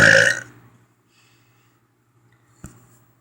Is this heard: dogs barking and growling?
no